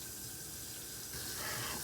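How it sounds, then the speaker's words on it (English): Hot water running from a kitchen tap into a sink, a steady rushing hiss that swells slightly louder near the end, heard on its own. "what we're going to do is start up the extreme hot water"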